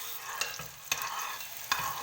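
An egg frying in hot oil on a steel plate gives a steady low sizzle, with a few sharp crackles and pops rising above it over two seconds.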